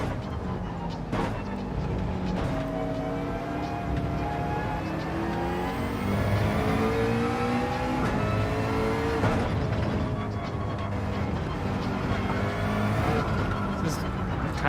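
A McLaren in Gran Turismo 7 revs through the gears, its engine note rising and falling in repeated sweeps with shifts between them, heard under a player talking.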